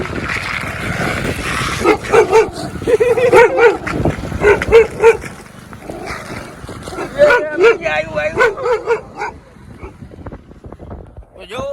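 A dog barks in repeated bursts close by, with wind rumbling across the microphone and people talking in between.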